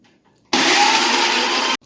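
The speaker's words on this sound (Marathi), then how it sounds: "आता ह्याला आपण मिक्सर करून घेणार आहोत। मिक्सर करत आहे।" A mixer grinder blends tomato chutney with chili powder, a little turmeric, coconut powder and salt, giving one loud, steady whirring burst of just over a second that starts and stops abruptly, with nothing else heard.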